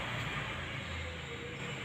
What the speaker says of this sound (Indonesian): Kita buktikan sekarang mesin di starter.